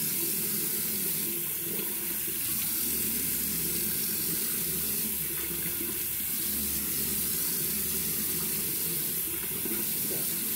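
Warm water runs steadily from a tap, a continuous close hiss and splash that never lets up and carries no voices.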